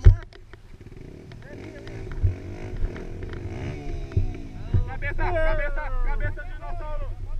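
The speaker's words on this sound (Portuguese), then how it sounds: "A moto passa aqui, mano." A motorcycle on a dirt trail revs and idles nearby, its engine rising and falling beneath loud, close conversation.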